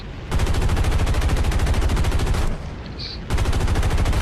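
Machine guns fire from an aircraft in a video game air battle over Saipan, in loud, rapid, continuous bursts with a short break before firing resumes.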